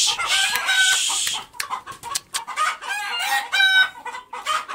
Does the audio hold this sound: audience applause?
no